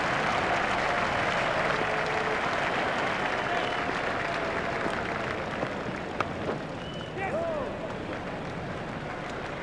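A cricket crowd at a one-day international between India and Australia, on its feet applauding a batsman's half century: sustained, dense clapping and cheering that fills the whole stretch, swelling slightly near the end.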